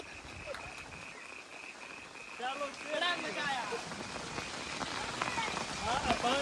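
Heavy rain falls steadily over Vaiya village as the river runs full, with frogs croaking close by in repeated bursts and people talking over the wet hiss.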